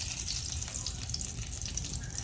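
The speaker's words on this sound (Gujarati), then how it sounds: "મરચા પડે અંદર નાખી દઈએ." Chillies tossed into a hot pan of oil sizzle and fry steadily in a home kitchen, a continuous close crackling hiss with no voices.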